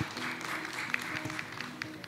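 Applause welcoming a guest at a beauty pageant final show: a soft, distant wash of crowd clapping, steady and faint in a large venue, with some voices underneath.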